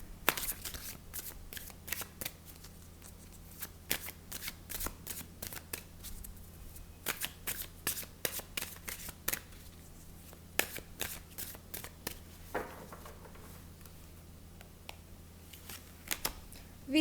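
Tarot cards being shuffled over a steady low hum, with quick papery riffles and flutters arriving in uneven bursts, fairly quiet and close, with no talking.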